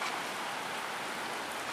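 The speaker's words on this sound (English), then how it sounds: "Oh, look at it rain over there." Steady, dense rain pours down with a constant hiss, close and fairly loud, and no voices are heard.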